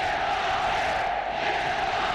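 Steady, dense roar of a stadium crowd at a Thailand versus Myanmar SEA Games group B football match, continuous and loud without clear peaks.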